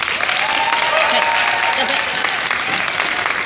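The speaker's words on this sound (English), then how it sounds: "give them a nice round of applause." Audience applause at an Odyssey of the Mind state competition, a dense continuous clapping that holds steady throughout with a faint voice over it.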